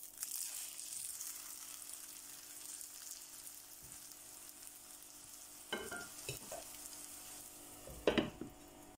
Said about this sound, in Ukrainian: Смажимо з обох сторін до золотистого кольору і перевертаємо на іншу сторону.